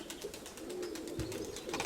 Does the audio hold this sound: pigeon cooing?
yes